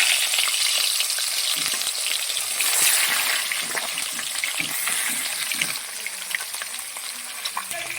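Small puti fish frying in hot oil give a steady, busy sizzle with crackles and pops that eases slightly toward the end; no one speaks.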